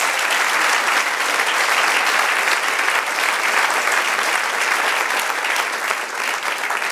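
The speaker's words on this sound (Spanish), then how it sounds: "Denle un aplauso al Señor." A large church congregation applauds during a sermon, steady and loud throughout, a dense wash of clapping with no pauses.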